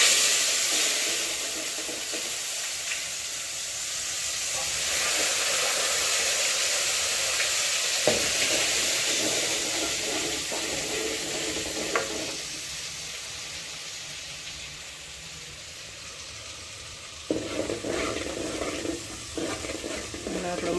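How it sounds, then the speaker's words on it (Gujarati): Spices tempered in hot oil for pav bhaji gravy give a loud, steady hissing sizzle that rises and eases, broken by occasional clacks of stirring against the pan. "વઘાર કરી નાખીએ"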